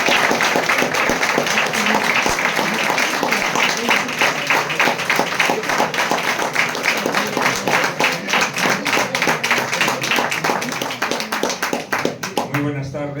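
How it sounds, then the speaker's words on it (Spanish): A packed book-launch audience gives a loud, sustained round of applause to welcome author Juan Manuel de Prada, with dense rapid clapping that thins near the end as a voice starts. "Vamos a recibir a Juan Manuel de Prada con un fortísimo aplauso"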